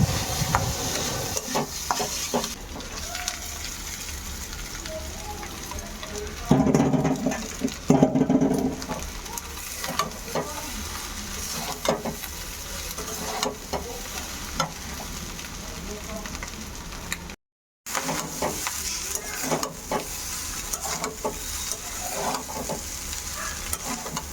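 Cooked rice stir-fried in a pan with a little salt and sugar, a continuous crackling sizzle with repeated scraping and stirring strokes and a brief cut partway through.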